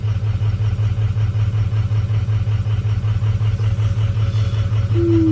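A 2004 Ford Excursion with the 6.0 diesel idles close by with a steady, even, low rumbling chug. Near the end a faint whine comes in, and there is no talking.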